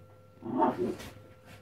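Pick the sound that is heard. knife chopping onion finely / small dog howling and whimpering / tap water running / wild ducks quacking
small dog howling and whimpering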